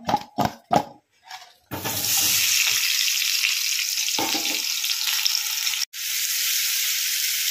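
After a few short bangs and clatters, hot mustard oil erupts into a loud, steady sizzle that fills a home kitchen, hissing continuously with one brief break before resuming.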